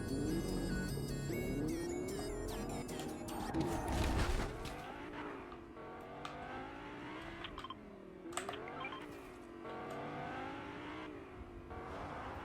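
A car in the video game Fortnite drives and slows to park, its engine hum shifting with the throttle alongside game sounds and keyboard clicks, while someone talks over it.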